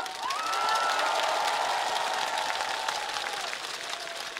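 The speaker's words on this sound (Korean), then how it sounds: "여러분들과 한번 축하의 박수를 치고 싶어서" A festival crowd at the 30th Dongnae Eupseong History Festival bursts into sustained applause and cheering, a dense continuous roar of clapping that swells early and holds steady, with a faint tonal whistle-like sound sliding through it.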